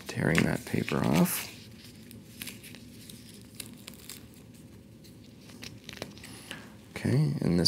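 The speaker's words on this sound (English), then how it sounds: "tearing that paper off" Paper backing being peeled and torn off a strip of KT tape, a brief close crinkly rip at the start followed by quieter handling noise, with a voice speaking nearby.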